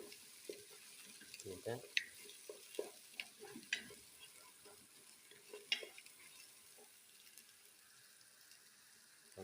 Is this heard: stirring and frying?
yes